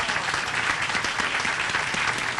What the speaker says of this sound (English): give the governor another round of applause